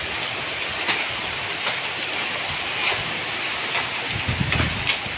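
Hailstones fall steadily in a dense, hissing patter, with occasional louder single impacts standing out from the continuous downpour.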